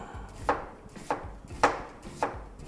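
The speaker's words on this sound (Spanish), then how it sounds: "vamos a poner un poquito de cebolla blanca. La vamos a filetear" A knife slices through white onion on a cutting board in four evenly spaced, crisp chops, close and fairly quiet, with no talking.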